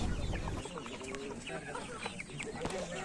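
Roosters and hens on a country-chicken poultry farm cluck and call in a busy, continuous chorus, with overlapping bird sounds close and farther off and a voice speaking at times.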